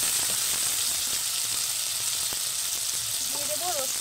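Onion paste sizzles in hot oil in the middle of a wok for a prawn curry, a continuous, even hiss of frying with a few faint clinks near the end.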